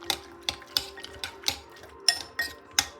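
Fruit pie filling being mixed in a pot with a utensil: a series of sharp clinks and scrapes against the metal, roughly twice a second, close and fairly quiet.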